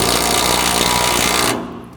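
A Makita 3/4 inch impact wrench hammers rapidly and loudly while pulling a hinge bolt on a training prop, a dense rattling burst that stops after about a second and a half.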